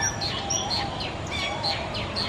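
Weaver birds chirp and tweet in a steady, busy chorus of short high calls, moderately close, over a constant background hiss.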